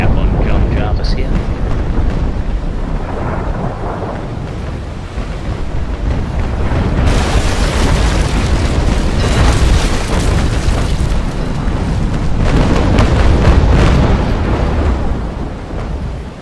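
A warship in a naval combat video game takes a heavy shell hit, with loud rumbling booms and roaring, surf-like blast noise filling the scene, peaking as a big explosive impact midway through.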